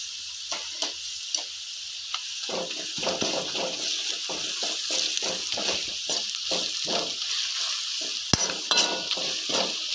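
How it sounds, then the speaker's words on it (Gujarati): Ginger, chilli and garlic paste crackles in hot oil with onion and spices, a close sizzle punctuated by repeated spoon scrapes and stirring clinks in an irregular rhythm, one sharp metallic tap near the end. "આદુ મરચાં લસણ બધું ખાડેલું છે, એની પેસ્ટ નાખું છું 1 ચમચી એટલી"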